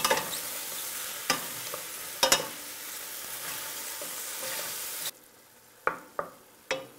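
Mushrooms fry in a pan with a dense, steady sizzle, punctuated by several sharp utensil clicks and stirs; the sizzle drops away abruptly near the end, leaving a few isolated knocks.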